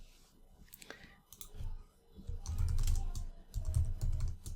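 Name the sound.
typing on a computer keyboard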